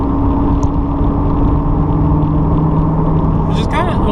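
A C8 Corvette fitted with a Borla ATAK exhaust, valves closed, holds a steady, subdued low rumble and drone while someone talks over it throughout.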